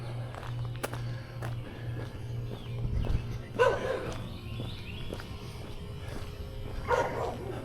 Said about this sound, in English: Why are you barking at me, doggy?